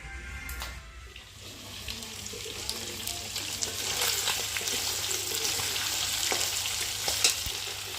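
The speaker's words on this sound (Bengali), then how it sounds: "মাংসটা ভাজা হতে হতে" Meat frying in a pan hisses and crackles steadily up close, growing slightly louder after a brief dip near the start, with no talk over it.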